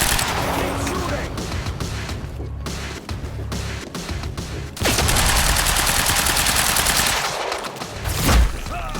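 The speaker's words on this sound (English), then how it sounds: "Keep shooting!" Sustained gunfire rattles through a Quantum Break firefight, with dense bursts of shots and impacts running continuously, growing heavier partway through, while voices shout over the shooting.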